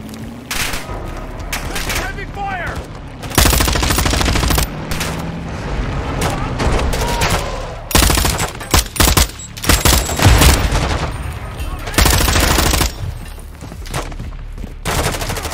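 Heavy gunfire in Call of Duty: Modern Warfare II, with dense bursts of automatic fire and booming shots that come in clustered volleys throughout and stay loud and close over a battlefield din.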